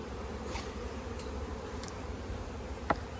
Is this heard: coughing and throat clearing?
no